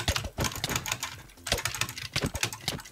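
Fast, dense clicking on a computer keyboard runs in rapid bursts throughout, close and fairly loud.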